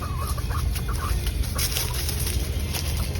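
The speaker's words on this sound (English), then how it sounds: "Oh no, look at the chickens." Chickens cluck and chatter in a backyard run, a steady flock sound with scattered clucks over constant outdoor background noise.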